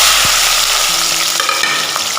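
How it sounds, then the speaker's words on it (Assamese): Chopped tomatoes, onion and green chillies fry in hot oil in a wok, producing a loud, steady sizzle that holds throughout, with faint stirring scrapes and no voices. "এইখিনি ফ্ৰাই কৰি লওঁ"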